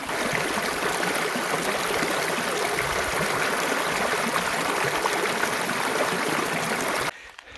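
Rushing water at Bodakonda waterfall near Hyderabad, a steady, loud, dense roar close by that fills the whole stretch without pause before cutting off abruptly near the end, with no talking.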